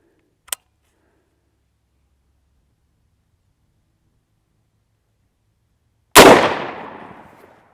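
A firearm is shot through drywall during a 9mm, .223 and .22lr comparison: a brief, faint crack first, then after a long silence a single loud, close gunshot with a ringing tail.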